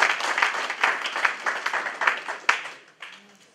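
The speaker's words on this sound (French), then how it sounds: "Est-ce qu'on peut acclamer pour la gloire de Dieu?" A church congregation at a thanksgiving service in Mulhouse claps and applauds for the glory of God, steady moderate clapping that thins out toward the end.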